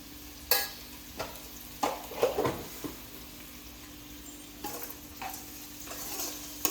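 Bitter gourd frying in a pan, a soft low sizzle broken by several sharp scraping and clinking strikes from a spatula, spaced irregularly; quiet overall with a faint steady hum beneath.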